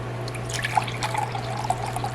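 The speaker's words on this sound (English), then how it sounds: "So let's do 2/3 of vinegar 4 times." Vinegar poured into a pot of sugar for candied jalapeños, a soft continuous liquid trickle with a few small splashy drips over a steady low hum.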